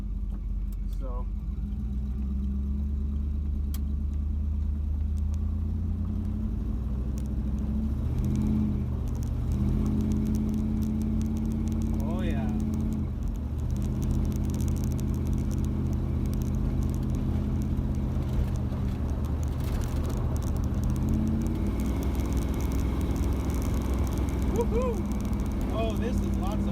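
Chevrolet Camaro driving with interior rattles, giving a steady engine drone and road rumble inside the cabin with light clatter, and a person talking over it at times.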